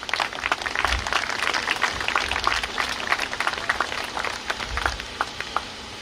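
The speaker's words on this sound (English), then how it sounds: "We can give her a round of applause for her" A scattered outdoor crowd applauds at a charity walk for hunger in Centennial Park, steady patters of clapping spread across the gathering with a low rumble beneath.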